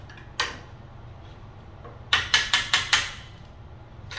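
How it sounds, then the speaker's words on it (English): Hammer blows on a big box store pre-hung interior door being fitted: a single strike, a pause, then a quick run of five sharp knocks, close and fairly loud over a low steady hum. "hammer it in there, pull it out a little bit"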